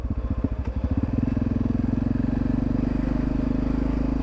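A motorcycle engine rumbles up close, its rapid pulsing thrum steadying and growing louder as it rides past.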